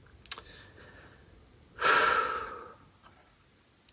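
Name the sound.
deep breath taken during guided meditation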